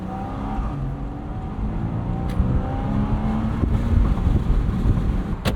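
A Porsche Boxster drives above 50 mph on a windy day, its engine a steady, rising drone with road and wind noise heard from inside the car.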